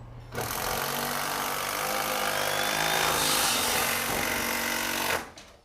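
A power driver runs steadily for about five seconds, driving screws into a house beam on a renovation site: a loud, continuous whirring burst that starts abruptly and cuts off at the end, with no talk over it.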